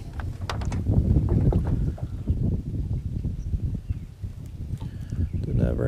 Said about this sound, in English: The wind's still blowing just a little bit.